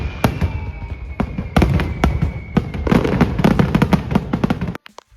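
Festival fireworks explode near and far in a dense string of sharp bangs and crackles, loud and irregular, then cut off abruptly.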